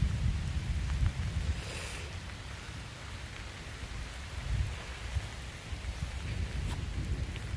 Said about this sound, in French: Il pleut vachement.